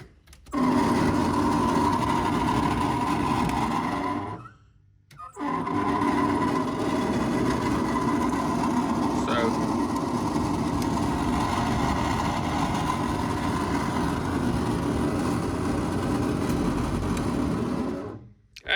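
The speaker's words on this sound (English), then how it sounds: "our blower motor sounds like it's dying" A failing heater blower motor in a square-body K5 Blazer whirs loudly and continuously with a rough, buzzing drone, cutting out briefly twice before running again, with no talk over it.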